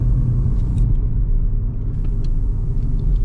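Kia Stinger GT engine pulling hard at full throttle through a curve, a steady loud low rumble and road roar from inside the car with no talk.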